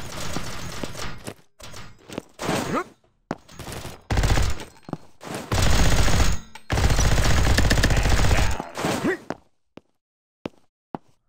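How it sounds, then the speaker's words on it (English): A minigun fires in a fast-paced Modern Warfare-style shooter, giving rapid sustained bursts of heavy automatic fire, several short and two long, close and loud, with gaps between them and a few isolated shots at the end. "Alright, I got a minigun."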